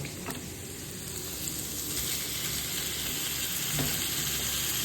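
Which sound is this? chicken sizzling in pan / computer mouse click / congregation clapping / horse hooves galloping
chicken sizzling in pan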